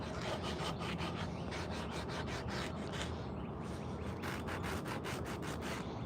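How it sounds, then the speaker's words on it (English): A small sanding block rubs rhythmically back and forth across a carved wooden coffee scoop, close and quiet, with quick repeated strokes, a short pause, then more strokes. "Yeah, I like these little sanding blocks."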